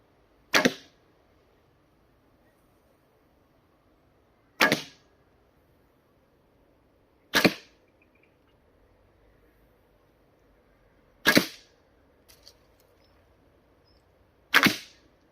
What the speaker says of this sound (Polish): teraz czas na strzelanie strzałami karbonowymi.